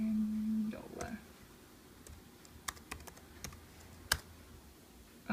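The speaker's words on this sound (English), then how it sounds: "I am going to type in his name here" A name is typed on a computer keyboard as a few scattered, quiet key clicks and taps, with a brief hum and a faint shuffle at the start and no steady rhythm.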